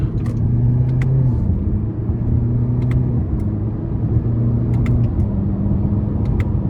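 A 2024 Toyota Corolla Hatchback SE with a 2.0-litre four-cylinder and manual gearbox pulls out of a corner. A steady, close engine hum rises in stages under light throttle, with small clicks and ticks from the cabin and no talking.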